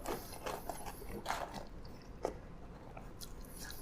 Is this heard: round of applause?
no